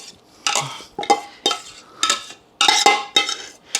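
Cooked onions and green peppers tipped and scraped from a pan into another bowl for an andouille sausage casserole, giving a series of close, loud clattering utensil-and-dish bursts in a steady rhythm with no talk.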